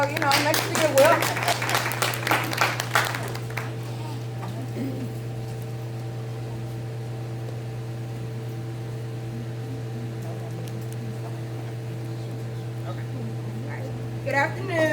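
Applause at a band booster meeting in a room with a steady electrical hum, a burst of clapping for a few seconds at the start that dies away, leaving the low drone and faint room noise.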